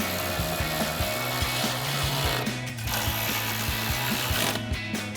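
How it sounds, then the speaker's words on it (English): A ratchet with a socket clicks rapidly and repeatedly while tightening a bolt on a 2016-2018 Silverado 1500 headlight housing, in close, even bursts of ratcheting with brief pauses between strokes. "So our ratchet, socket, and our bolt. Go ahead and tighten that down."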